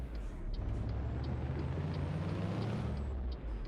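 A 500-horsepower truck in American Truck Simulator pulls an empty trailer, its engine a steady, faint low drone with a few light clicks, no talk.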